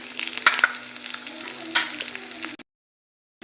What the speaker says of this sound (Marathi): आता आपण यामध्ये भेंडी टाकून घेऊया हे मिरचीमध्ये भेंडी चांगली मिक्स करून घेऊ आणि परतून घेऊ